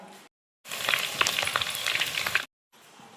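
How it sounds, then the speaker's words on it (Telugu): Green chillies fry in hot oil for a Telangana-style okra stir-fry, giving a dense crackling sizzle with sharp pops for about two seconds, framed by short quieter gaps. "ఇదే నూనెలా పచ్చిమిరపకాయలు కూడా గోలించుకోవాలి"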